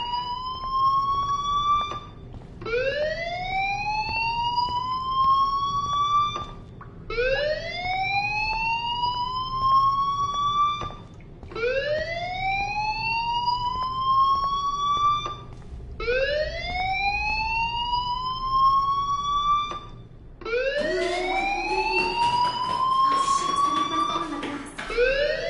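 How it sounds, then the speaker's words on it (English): A loud school fire alarm in Life is Strange whoops in repeated rising sweeps, about every three to four seconds, while a voice talks underneath toward the end. "Hey, do you hear that fire alarm?"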